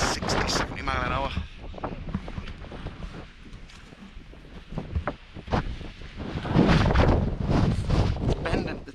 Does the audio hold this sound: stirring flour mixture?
no